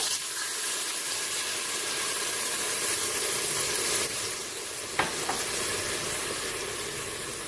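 White wine poured onto browning lamb in a Cookeo pot, a loud steady sizzle and hiss with steam, a sharp clink partway through, close with no voices.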